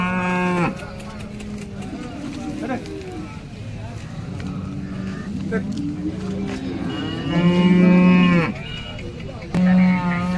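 A cow at a cattle market in Sangola moos several times, long low calls close by, with a steady background rumble between them.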